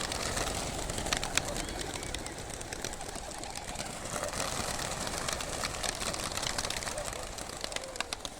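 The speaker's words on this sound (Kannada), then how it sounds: "ಇವಾಗ ನೀವು ನೋಡ್ತಾ ಇರೋದು 7:36ಗೆ ಯಂಗ್ ಬರ್ಡ್ನ ಲಿಬ್ರೇಟ್ ಮಾಡ್ತಾ ಇದ್ದಾರೆ" Young racing pigeons are released together from four clubs in a mass liberation, a dense, continuous flutter of wingbeats and soft cooing at moderate distance, with a faint idling engine beneath.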